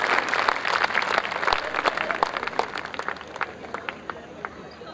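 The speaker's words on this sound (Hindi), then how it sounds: "तो जोरदार तालियों से हम सभी कवियों का स्वागत करते हैं।" An audience at a Hindi kavi sammelan in Navi Mumbai claps steadily to welcome the poets on stage, a continuous wash of hand claps with some crowd murmur underneath, fading slightly toward the end.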